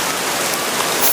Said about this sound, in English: a heavy downpour came down from the sky